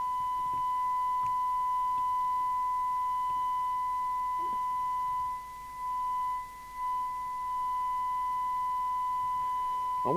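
A steady pure test tone from a signal generator plays through a Maxcom 30E UK FM CB radio, constant and clear over a faint background, with a couple of small clicks and a brief dip midway.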